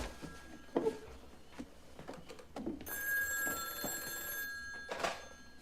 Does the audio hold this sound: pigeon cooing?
no